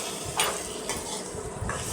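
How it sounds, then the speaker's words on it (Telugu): Tomato pieces fry in a pan: a continuous close sizzle with a few light scrapes and taps of a spoon against the metal. "ఇప్పుడు టమాటా ముక్కలు వేసుకొని ఇంకొంచెం సేపు ఫ్రై చేసుకోవాలి."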